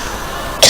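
A single sharp cough bursts out near the end of the short clip, loud and close, preceded by quiet background.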